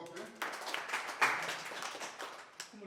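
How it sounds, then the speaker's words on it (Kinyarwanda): Children at a birthday celebration for a school leader clap together in a quick scattered burst, moderately loud, with voices mixed in. "mukomera amashyi"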